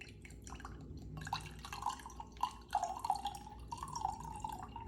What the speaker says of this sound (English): So we can pour the water in here.